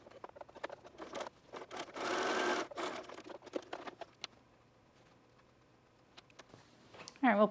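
A sewing machine runs through back darts on a dress in quick, quiet stitching bursts, one longer whirring run in the middle, with small clicks and handling sounds between, close but soft.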